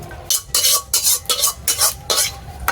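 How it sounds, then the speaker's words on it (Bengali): Rhythmic scraping and clinking of a ladle against a metal pot, about seven strokes in steady succession as cabbage curry is served into a bowl, close up with no talking. "এবার আমি গামলাতে ঢেলে নিচ্ছি"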